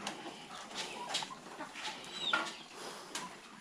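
Hens on a rural farm cluck faintly in scattered short calls over a soft outdoor background, with no one speaking.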